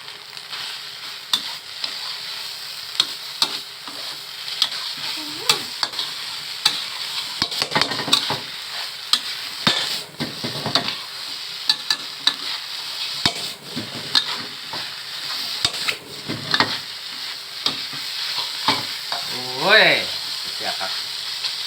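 Thai field-rat curry with lemongrass cooks over high heat, sizzling steadily in a pan with repeated clicks and scrapes of stirring throughout, as a voice speaks briefly near the end.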